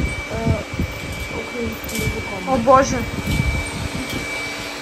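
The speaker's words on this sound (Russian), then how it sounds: "У меня тут пылесос убирает" A household vacuum cleaner drones steadily in a home where dogs run about, a constant mid-level motor hum with a thin whine running under frequent speech and a brief exclamation.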